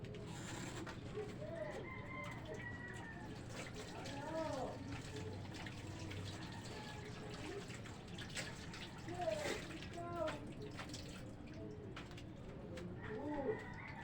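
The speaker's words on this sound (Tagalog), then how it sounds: "Hugas muna ako ng kamay." Hands washed under a running tap, a steady splashing stream of water, while birds and a crowing rooster call in the background.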